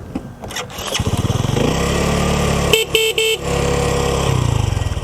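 A Dayang Nova 125 moped engine starts and settles into a close, loud, buzzy idle with a rapid regular putter, interrupted briefly by three short horn beeps midway before the engine note carries on.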